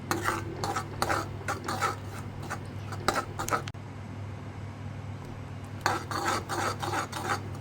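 Ground masala for amti being stirred in a pot with a spoon, giving repeated scraping rubs in bursts, a pause in the middle, then more stirring over a low steady hum.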